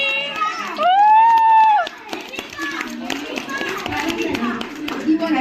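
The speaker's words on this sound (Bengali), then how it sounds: "হাততালি হাততালি" A roomful of wedding guests claps for newlyweds in a home, brisk scattered applause under lively overlapping chatter and a high exclamation, close and continuous.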